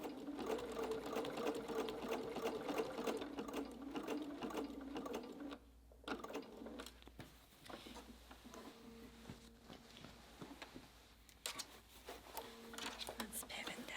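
Sewing machine stitching reinforcement across the bottom of a large jelly roll fabric tote, a steady close whirring run that pauses briefly and restarts several times, with faint handling noises between bursts.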